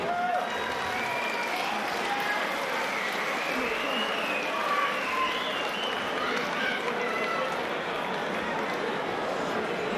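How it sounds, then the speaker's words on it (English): Crowd applause and cheering for two fighters after a bout in a ring, a steady dense roar of clapping that fills the room, with voices mixed in throughout. "Let's give a big round of applause for both of them."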